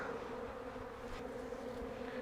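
Steady, dense buzzing of many honey bees close by during a beehive cutout from a barrel, a continuous droning hum with no voices.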